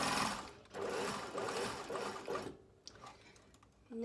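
A sewing machine stitches down the long side of a wrap in a fast run that stops abruptly, followed by quieter handling sounds and a brief restart at the end.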